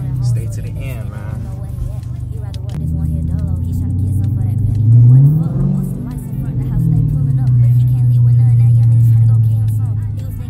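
Dodge Challenger R/T engine revving while driving, a loud low rumble that swells in two surges over a steady drone, with someone talking over it.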